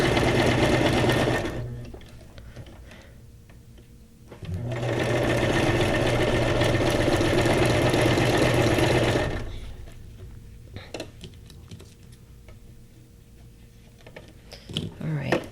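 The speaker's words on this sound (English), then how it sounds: "That's the last little line of stitching for this." A sewing machine stitches a line on a paper junk journal tag in two loud, rapid mechanical runs separated by a quieter pause, with someone talking during the gaps.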